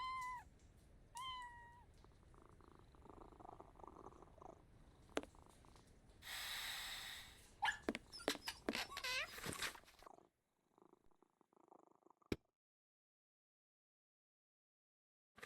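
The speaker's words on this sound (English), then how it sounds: "This cat seems to be in a sorry state." A cat in a Sherlock Holmes video game gives a few short, rising meows, then a soft purring rumble and scattered snorts and squeaks, close and fairly quiet, ending in silence broken by one sharp click.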